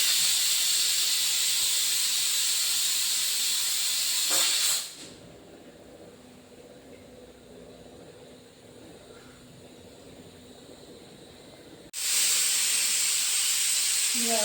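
A pressure cooker of boiling peas lets off a loud, steady steam hiss, cuts to quiet for several seconds, then bursts back into hissing at full force.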